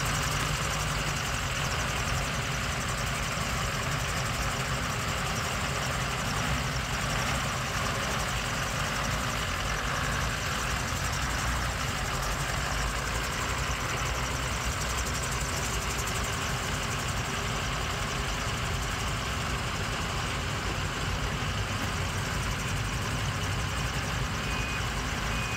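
A limousine engine idles steadily, a constant low rumble that stays level and unbroken for the whole stretch, with no voices over it.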